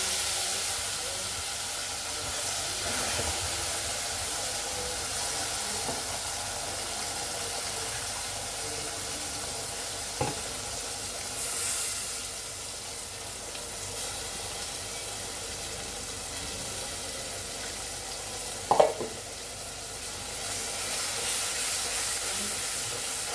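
Gravy with turmeric sizzling in a pan for a Bombay duck curry, a faint continuous hiss over a long stretch, with two brief sharp knocks from utensils.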